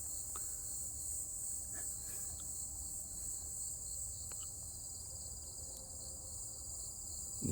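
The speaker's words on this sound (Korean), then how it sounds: "귀뚜라미랑 매미랑 같이 우네요" Crickets and cicadas chirp together in a constant high-pitched drone outdoors in a pine mushroom field, with a few faint clicks and knocks beneath, no talk.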